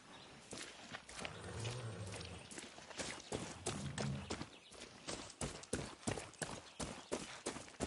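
Video game horse hooves clip-clop along at a steady walking pace, close and clear, with a soft background wash beneath the hoofbeats.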